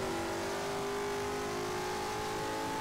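Race car engine in the rFactor racing game holding a high, steady whine with strong tonal harmonics, loud and unbroken for a few seconds with no clear gear shift.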